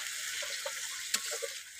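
Onion and tomato paste fry in oil with spices, giving a bright, steady sizzle with a couple of brief scraping stirs.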